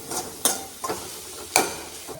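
Ginger garlic paste frying in oil for South Indian egg gravy, soft sizzle punctuated by three or four sharp scraping stirs of a spoon against the pan.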